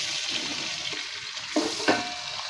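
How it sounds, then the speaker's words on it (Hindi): Chopped onion hitting 1.25 kg of hot oil in a large pot for a 5 kg chana pulao, giving a steady broad sizzle with a couple of louder bursts and stirring scrapes midway. "और इसमें मैं डाल दूँगी प्याज"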